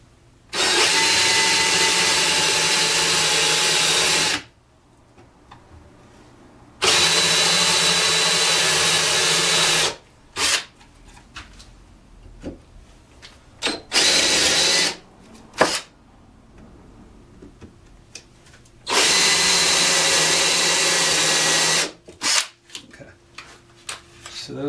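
A power drill countersinks screw holes in a wooden handstand trainer, whining loudly in several long bursts separated by pauses filled with faint handling noises and clicks.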